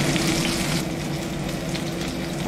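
Tofu fries in a pan with a steady, close, bright sizzle and spatter that holds evenly throughout, with no voices.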